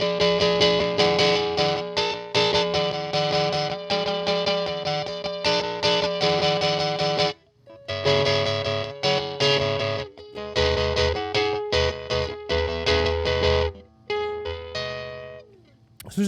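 Electric guitar played through a Fairfield Barbershop overdrive pedal with sag and drive fully down and volume cranked, giving strummed and picked chords with sharp attack and little sustain, a short pause midway, then more chopped chords.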